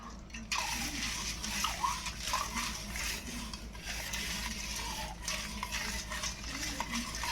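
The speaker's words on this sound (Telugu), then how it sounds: "ఇలా గరిటితో కలుపుకుంటే మనకి బాగుంటుంది చిరాకు లేకుండా" A ladle stirs a sweet mixture of colostrum milk, jaggery, cardamom and pepper in a pot, making continuous wet sloshing and scraping under a steady hiss, with no speech.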